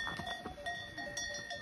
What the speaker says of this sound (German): Die Schafe, die Ziegen.